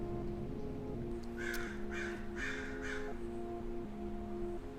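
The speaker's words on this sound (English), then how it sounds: "There's always birds laughing at me." Crows caw outdoors in a quick run of four harsh calls, moderately distant, over a steady low tonal hum.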